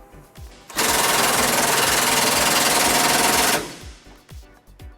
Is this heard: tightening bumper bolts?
yes